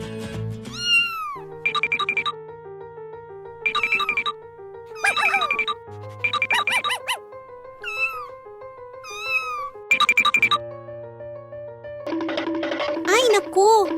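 A small cartoon cat gives a series of high, sliding meows in short bursts separated by pauses, bright and close, with a childlike voice speaking in between.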